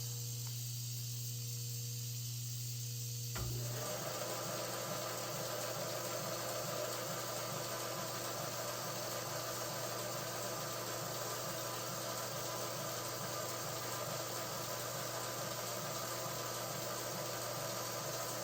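A Brown and Sharpe surface grinder runs its dressed wheel across the top of a magnetic chuck with coolant flowing. A steady machine hum starts abruptly, then a continuous grinding whir with coolant spray holds evenly and fairly loud.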